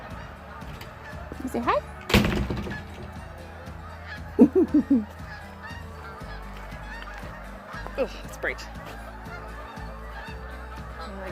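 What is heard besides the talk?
geese honking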